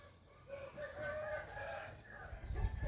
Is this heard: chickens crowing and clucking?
yes